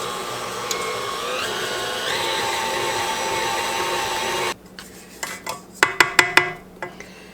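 A stand mixer fitted with a whisk beats pound cake batter in a steady, close motor whir for about four and a half seconds, then stops, followed by several sharp clinks of utensils against the bowl.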